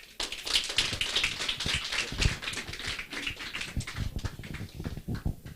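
Applause from an audience at a Korean company presentation event, dense and steady for the whole stretch, a crowd of hands clapping at moderate distance with no voices over it.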